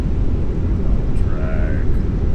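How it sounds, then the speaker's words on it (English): Finnair A321 thrust reversers engaging on landing in a flight simulator, a loud, dense low roar of rising engine noise that fills the short moment, with a voice speaking over it. "Reverser's coming on."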